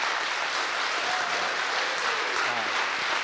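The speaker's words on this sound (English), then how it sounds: "Why don't you give them a round of applause?" An audience at the Hilo Complex school winter concert gives a round of applause, a thick wash of many hands clapping at steady volume throughout.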